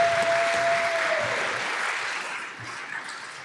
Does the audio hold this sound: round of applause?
yes